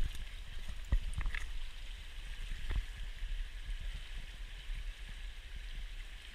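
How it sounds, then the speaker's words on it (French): A cold river in Lozère flows steadily, a soft broadband rush of water with occasional gurgles and small knocks close by, fairly quiet and unbroken throughout. "nous sommes sur une magnifique rivière lozérienne"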